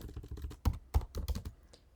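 Quick bursts of computer keyboard typing as a tcpdump command is entered, with sharp, distinct keystrokes in an uneven rhythm. The clicks are close but fairly quiet, with a few louder taps.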